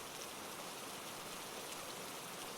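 Steady rain falling outside a train window at night, a dense, even hiss with no breaks, soft and continuous throughout.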